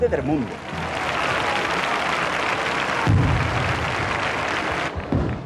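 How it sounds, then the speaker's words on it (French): A crowd of Andalusian pilgrims saluting the Virgin claps in steady, dense applause that fills the whole stretch. A voice speaks briefly at the start, and there is a short dip near the end. "Sous les applaudissements, parfois les vivas, véritable marée humaine, le peuple andalou exprime ainsi"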